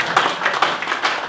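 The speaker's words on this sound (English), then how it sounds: "Give them a round of applause." A round of applause for arriving guest celebrities at a music masterclass jamming session, a dense, steady patter of many hands clapping at moderate distance with no talk over it.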